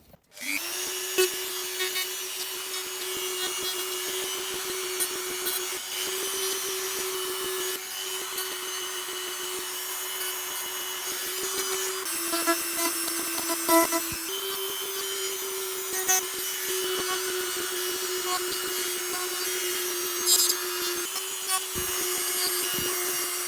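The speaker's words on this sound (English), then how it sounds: "that's all the Dremel in" A Dremel rotary tool grinds steadily on a model AT-AT, its high whine holding a constant pitch with brief dips as it presses into the work, loud and close, no talk.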